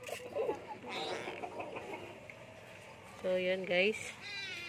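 A pet cat meows a couple of times, short and fairly close, amid someone talking in Filipino in a home garage during a Honda Click 150 scooter oil change.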